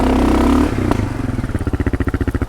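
A motorcycle on Bridgestone AX41 adventure tyres revs hard and pulls away on gravel, engine roaring loudly up close, then settling into a pulsing, chugging beat as it accelerates.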